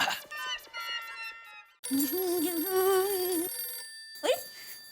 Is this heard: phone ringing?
yes